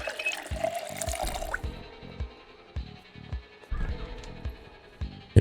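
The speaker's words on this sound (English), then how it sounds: "Let's go ahead and fill our water bottle up." Water running from a tap into a bottle in the Project Zomboid video game, an initial gush followed by a run of short, rhythmic splashing and gurgling bursts, close and moderately loud.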